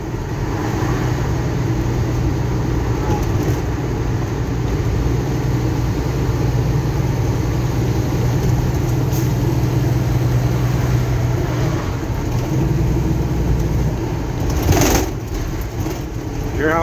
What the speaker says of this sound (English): Hear how rough these roads are?